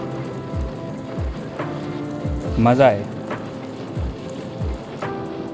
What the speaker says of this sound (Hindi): आगे बारिश बहुत है।